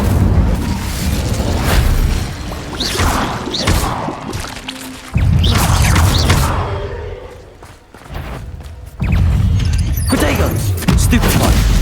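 Incendio fire spell cast during Hogwarts Legacy combat, heard as a string of loud booming blasts and crashing impacts with short whooshing bursts over roughly twelve seconds, with a voice in the background.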